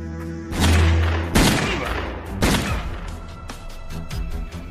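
A film shootout erupts in loud volleys of gunfire, several sharp blasts and bursts over about four seconds with ringing decay between them.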